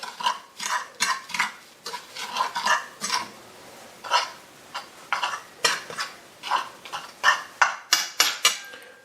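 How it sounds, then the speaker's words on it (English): A whisk or fork beats eggs briskly against a bowl, quick rhythmic clinking strokes that pause briefly and then resume. "I'm going to whip up those eggs so the"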